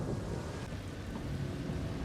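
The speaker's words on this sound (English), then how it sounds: "I'm just glad it's rain and not, for example, a corrosive acid fog." Heavy rain downpour in the Mass Effect video game, a steady dense wash with low rumbling underneath, constant and fairly loud with no voices.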